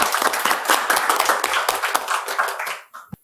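Loud, dense audience applause for a second-year high school student presenter at a climate and future-education forum, rolling steadily for nearly three seconds before fading out quickly.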